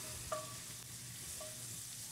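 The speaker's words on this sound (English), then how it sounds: "I'm going to throw in my smoked ham hocks, and I'm going to go ahead and brown that real good. Let that start frying down." Smoked ham hocks fry and brown in a pot with a steady, hissing sizzle, and two brief metallic taps of stirring break through the crackle.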